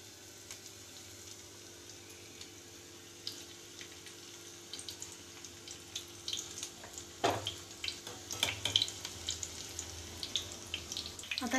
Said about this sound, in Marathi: आता एक एक मी बाकरवडी तेलात टाकते।